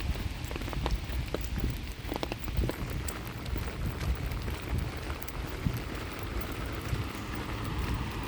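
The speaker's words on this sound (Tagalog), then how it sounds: "Rain" Rain falls steadily, a dense, even patter on outdoor surfaces with scattered sharper drops and no talking.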